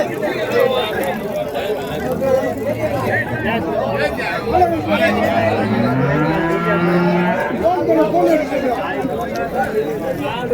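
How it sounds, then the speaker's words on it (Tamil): Native bulls at a busy cattle market moo in long, low calls amid crowd chatter, with someone talking over the noise throughout. "ரெண்டுமே நாட்டு காளைங்க."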